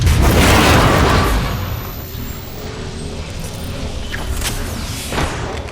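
Horizon's singularity ultimate detonates in Apex Legends, a loud deep boom that swells at the start, then thins into a sustained rumbling hum with faint crackles.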